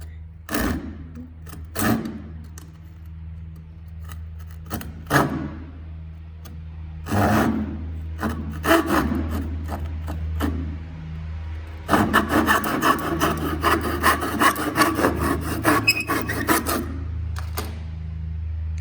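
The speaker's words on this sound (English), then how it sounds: "just use the tenon saw again to cut the other way" A tenon saw cuts a finger joint in wood: short bursts of rasping strokes at first, then a long run of quick, rhythmic back-and-forth sawing, close and clear over a low hum.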